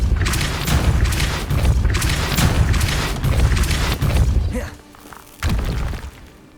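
Depulso spell impacts in Hogwarts Legacy, a run of loud booming thuds and crashing shatters layered in dense succession, dropping off briefly before one more heavy burst near the end.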